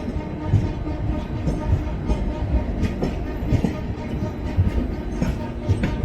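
Indian Railways Himsagar Express (Kanyakumari to Shri Mata Vaishno Devi Katra) rumbling past at close range, a steady loud rattle with rhythmic clickety-clack of wagon wheels over rail joints throughout.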